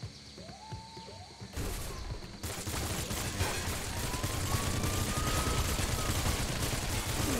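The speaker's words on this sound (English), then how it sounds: "Look at the fire rate on this bad boy." Rapid gunfire from a weapon in the video game Nuclear Throne (Ultra Mod), a dense, continuous burst of shots that starts after a short quieter lead-in and keeps up steadily and loudly to the end.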